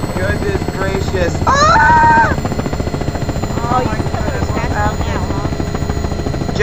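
Helicopter in the Garry's Mod sandbox game, a steady loud rotor drone running underneath excited voices talking and shouting over it.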